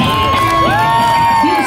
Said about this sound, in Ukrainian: Більше, більше овацій нашим хлопцям!